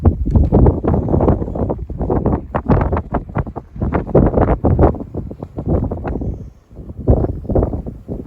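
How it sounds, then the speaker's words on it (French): Strong wind roars and buffets the microphone on a sailboat, loud gusty rumbling that surges and dips continuously with no voices. "il y a un vent à décorner les cocus"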